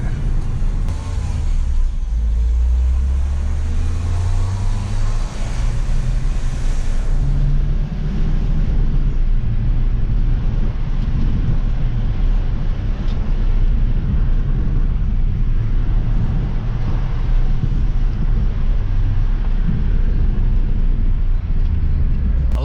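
A turbocharged Citroen DS3 engine drones loudly and steadily with strong rumble and wind noise, pitch shifting as it pulls through gears, with intercooler hoses tightened and no boost leaks; no talking.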